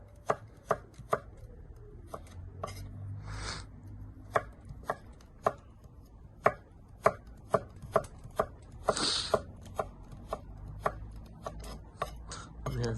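Knife chopping carrot into thin, rough pieces on a wobbly table, a steady run of sharp, close blade thuds against the board, evenly spaced and loud, with no talk.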